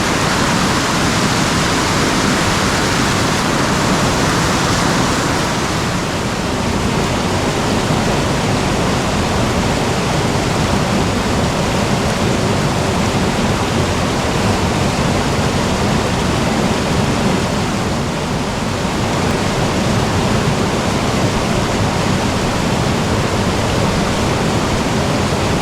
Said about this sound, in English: just as the rain comes on even heavier